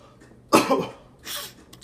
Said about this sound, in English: Sorry for all the coughing and sniffing and crap